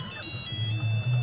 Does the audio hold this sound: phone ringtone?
yes